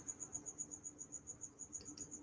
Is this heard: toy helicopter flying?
no